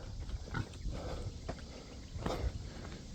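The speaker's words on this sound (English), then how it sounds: "Pretty good pigs right there." Show pigs on a farm grunt and snuffle in low, irregular bursts over a steady background hum.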